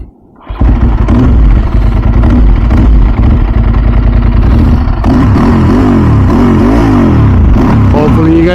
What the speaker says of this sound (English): I was gonna give you guys a little exhaust note from the camera